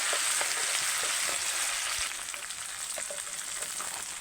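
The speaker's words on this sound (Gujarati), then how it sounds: "હવે થોડીક વાર આને તેલમાં પાકવા દઈએ." Chopped onion and garlic-ginger-green chilli paste fry steadily in hot oil in a village-style kitchen, a close, constant bright sizzle with a few faint stirring clicks, no talk.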